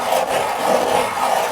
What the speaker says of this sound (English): get the face of the hammer and just simply rub the hammer now up and down.